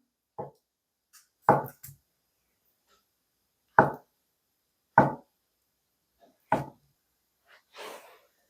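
A kitchen knife slices tofu into 0.7 cm pieces on a cutting board for a spicy dried-pollack stew. About six crisp, separate knocks land at irregular intervals, with quiet gaps between them.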